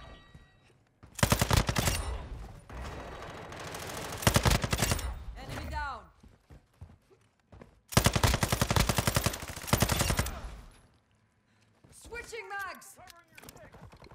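Sakin MG38 machine gun in Modern Warfare 2 fires two long, loud, rapid bursts separated by a pause, each followed by mechanical reload clatter, with players chatting around them.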